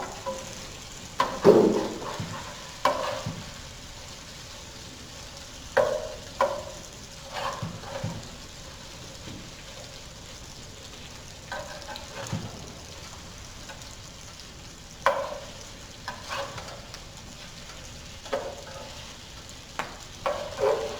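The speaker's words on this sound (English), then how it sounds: "a good meatball is always supposed to be fried" Meatballs fry in a pan with a soft, steady sizzle, broken by occasional clinks and scrapes as they are stirred and turned, fairly close and without talk.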